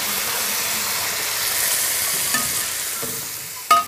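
Gongura leaves and tomato pieces fry in a pan with spices, ginger-garlic paste and curry leaves, giving a steady loud sizzle and hiss with light stirring scrapes and a sharp clatter near the end.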